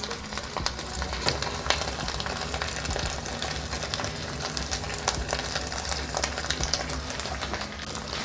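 Beijing beef pieces stir-fry in sauce in a hot pan, giving a steady, close sizzle with crackling pops and bubbling throughout.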